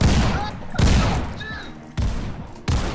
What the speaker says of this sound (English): Is that an airstrike?